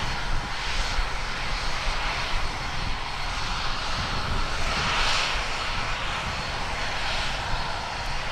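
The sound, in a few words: ATR turboprop aircraft engines as plane heads out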